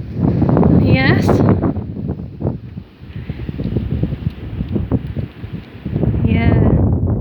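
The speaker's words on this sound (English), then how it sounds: "I didn't quite realise how windy it was before I set off." Strong wind buffets the microphone during an outdoor bike ride on a windy day, a constant loud rushing roar with gusts, while people talk over it throughout.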